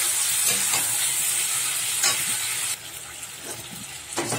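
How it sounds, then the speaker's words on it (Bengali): Fried potato, ridge gourd and shrimp are stirred in spice paste in a hot pan, giving a steady loud sizzle and hiss with scraping strokes of the spoon. The sizzle drops abruptly partway through, then scraping resumes. "এবারে যে ভেজে রাখা যে আলু, ঝিঙে, চিংড়ি মাছ সব আমি দিয়ে দিলাম একসাথে, দিয়ে একটু ভালো করে নেড়ে চেড়ে নিচ্ছি।"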